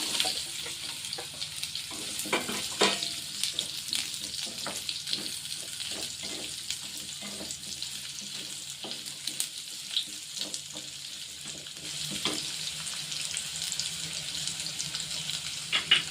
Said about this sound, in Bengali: তেলটা গরম হয়ে গেছে, এখন আমি এই কুমড়ো আর গাজরটা দিয়ে দেবো।